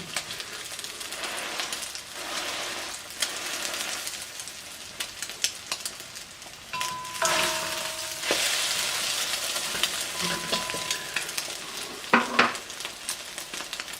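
An egg foo young style omelette fries in a pan, giving a steady close crackling sizzle with occasional scrapes and clinks of a utensil, louder bursts near the end.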